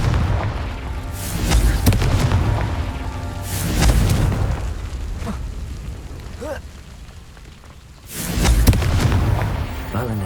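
Repeated Confringo blasting-spell explosions from Hogwarts Legacy, three or four booming bursts spaced a couple of seconds apart, close and heavy, with brief quieter gaps between them.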